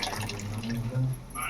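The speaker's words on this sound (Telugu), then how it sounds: "పాలు పోస్తున్నాను రుచి కోసం." Milk is poured into biryani made with basmati rice, a soft liquid splashing and trickling that runs under a voice talking close by.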